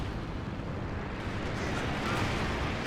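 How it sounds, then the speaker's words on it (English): A Soviet airstrike in the Company of Heroes 2 strategy game, heard as a dense, steady roar of rumbling explosions and blasts that carries on without a break for the whole stretch. "Soviet airstrike is coming on in."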